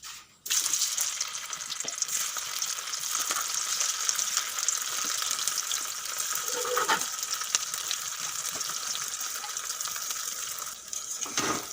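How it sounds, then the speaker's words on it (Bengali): Sliced boiled eggs frying in hot oil for an egg and potato curry, a steady close sizzle with occasional spatters and a clink of a utensil, continuous after a brief quiet start. "এখন এইগুলো আমি তেলের উপরে ভেজে নেব"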